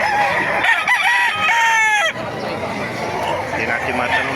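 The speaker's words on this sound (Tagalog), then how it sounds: "Ganda ng mga manok, oh." Roosters crow at a busy Baliuag flea market poultry stall, one close loud crow rising and breaking off amid clucking fowl and background crowd noise.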